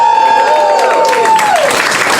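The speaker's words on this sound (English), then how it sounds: "Oh, the applause stops" Audience applause at a stand-up comedy set, a dense wash of clapping filling the room loudly throughout, with a steady tone and a falling whistle-like sweep running through it.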